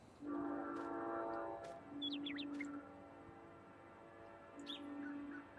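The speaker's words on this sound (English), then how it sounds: "I start recording, a train comes through again." A train passes through farmland in the game Farming Simulator 19, its horn sounding in long blasts at the start, middle and end over a low rolling rumble, with bird chirps scattered on top and no talking.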